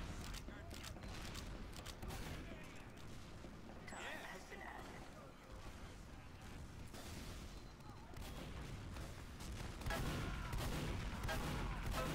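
Gunfire from the video game AerOsPINE, repeated shots and bursts mixed into busy game sound and music, with a voice talking over much of it.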